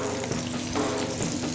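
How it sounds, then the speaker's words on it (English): Pizza dough deep frying in oil in a frying pan for pizza fritta, a close continuous crackling sizzle with bubbling pops, heard alone without voices. "We're just deep frying pizza dough, yeah."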